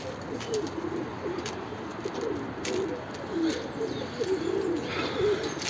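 Tumbler pigeons coo softly and steadily in a low, rolling murmur, with occasional faint wing flutters and chirps in an outdoor loft setting, no talking heard.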